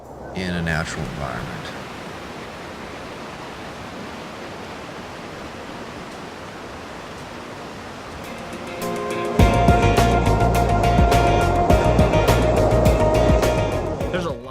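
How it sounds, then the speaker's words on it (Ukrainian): A huge river flowing under ice in a canyon, heard as a steady, loud rushing roar that grows heavier and deeper toward the end, with a voice speaking over it. "А ще під льодом тече величезна річка, витікаючи з іншого боку"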